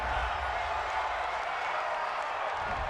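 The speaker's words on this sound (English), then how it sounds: "This home crowd, they're happy with that call." A home crowd in a football video game roars and applauds after a call, a broad, steady wash of stadium cheering with voices talking faintly beneath it.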